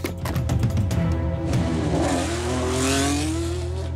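A Red Bull Formula 1 car engine revs hard and close, opening with sharp staccato blips and then rising into a long, loud, climbing wail that sustains to the end, with no voices.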